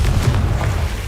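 The Confringo explosion spell goes off in the video game Hogwarts Legacy as a loud, deep rumbling boom. It sounds as one continuous blast that fills the whole brief moment.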